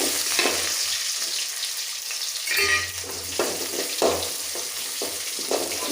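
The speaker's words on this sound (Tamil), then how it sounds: "நல்லா பொன்னிறமாக வறுக்கும்." About ten small onions and a few curry leaves fry in oil in a pan for a South Indian kuzhambu, with a close, steady sizzle and several brief bursts of spattering as they are stirred.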